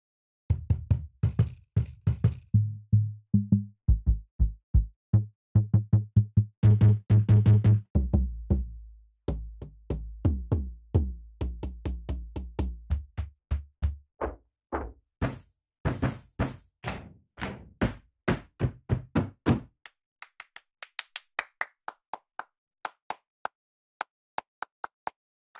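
Percussion samples from the Big Fish Audio SMACK library play one after another: dry knocks, thunks and booming low hits, some quick runs of taps and some sparse single strikes, close and clean with no talk.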